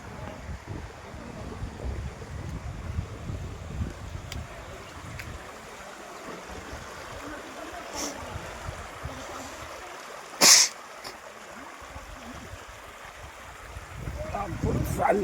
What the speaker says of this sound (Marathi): बघा हा धबधबा.